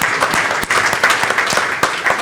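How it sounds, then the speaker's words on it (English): Sustained, dense applause from the audience at a youth pre-conference of a public health conference, loud and steady throughout with individual claps standing out briefly. "Give yourself another round of applause for that."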